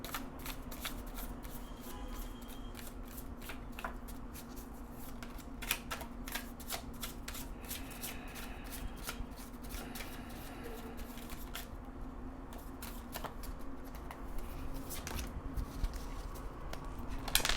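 Tarot cards being shuffled, a steady run of soft, close riffling and slapping that continues for the whole stretch without talk.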